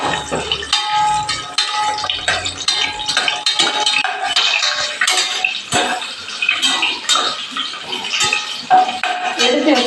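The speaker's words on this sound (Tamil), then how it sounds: "போட்டுட்டு அடுத்து வதக்கணும் நல்லா வறுத்துட்டு" Biryani ingredients sautéing in a pan, with steady clattering and scraping of a utensil against metal, close and fairly loud throughout, with no talk.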